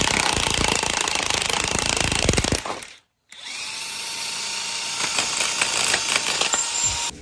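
Impact gun hammering loudly at a bolt on a BMW E46 rear end, two sustained rattling bursts split by a brief pause, close and alone with no talk.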